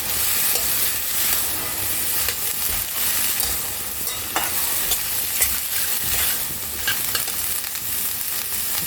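Boiled chickpeas are stirred into a spice paste frying in oil, making a loud, dense crackling sizzle with constant scraping and stirring up close and no talking.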